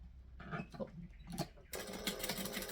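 A sewing machine back stitching vinyl, running in short quiet bursts and then a faster continuous whirring run, heard up close at low volume.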